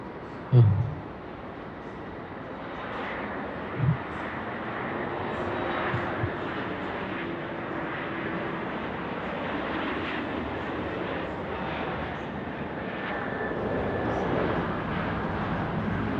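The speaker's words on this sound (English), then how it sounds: "Was the Fiji 915, the 738 Max, 200 feet, just breaking through the cloud now. He's coming in 16 right," Fiji Airways Boeing 737 MAX 8 on short final to runway 16 right at Sydney Airport on a foggy night, a distant, faint jet engine roar held steady, with two brief thumps near the start.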